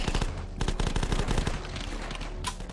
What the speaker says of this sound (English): Oh, I'm shooting at his armor.